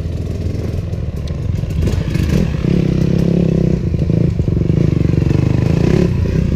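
Trail riders' dirt bikes at a large rural trail ride in Paraná, Brazil, rev and roar close by, engines droning loudly and continuously with clattering and rising revs as bikes pass.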